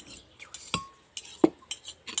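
A spoon stirs calamansi juice into a homemade leche flan mixture in a small container, giving a series of sharp, irregular clinks and scrapes against the side, close and fairly loud.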